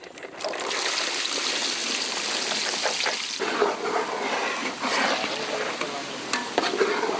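Peeled, chopped garlic fries in hot sesame oil over an outdoor village fire, giving a steady, close sizzle broken by soft scraping as it is stirred.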